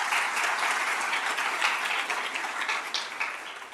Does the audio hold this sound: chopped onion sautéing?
no